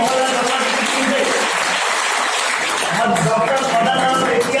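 An audience applauds a team at a meeting, a dense and continuous wash of clapping that stays loud and even throughout, with voices mixed in underneath.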